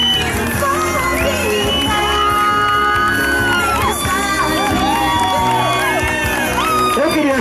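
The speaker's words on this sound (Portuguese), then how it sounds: "Uma salva de palmas!" A crowd of adults and children cheers and whoops continuously at a children's birthday party, with shouts rising above music throughout. The noise is loud and sustained and no one speaks clearly.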